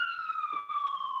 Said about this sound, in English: Sorry about the siren out there.